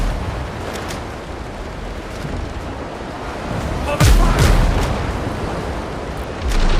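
Cannon fire from enemy ships in the video game Windrose, heard at sea: a couple of deep booming shots land close together midway, rising out of steady rushing wind and water noise.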